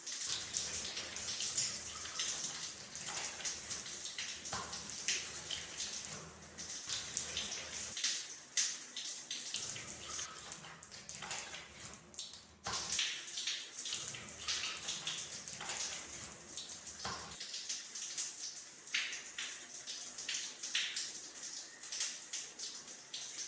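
Water running and splashing softly while arms are washed during a ritual bath, faint and close, with uneven trickles and patters that come and go in bursts.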